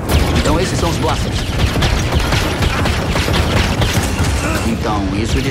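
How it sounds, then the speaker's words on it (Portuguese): Cannons in Star Wars Jedi Fallen Order fire in a dense, continuous barrage of booming blasts, loud and unbroken throughout, with a mechanical rumble underneath. "Então, isso dispara os canhões."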